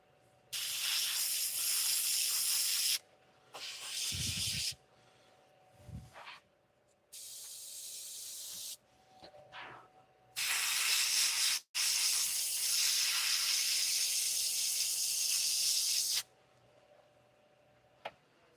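An airbrush sprays gold paint onto a piece of turned wood, loud close hissing bursts of a few seconds each, separated by short pauses and soft handling clicks.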